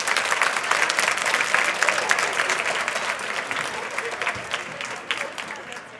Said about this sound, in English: give your parents, grandparents, and guardians a big round of applause